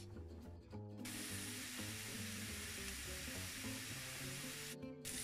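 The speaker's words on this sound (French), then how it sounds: "mettre tous les lardons dans la poêle et les faire" Bacon lardons sizzle steadily in a frying pan, a dense, close hiss that runs without pause apart from two brief dips, with no voices over it.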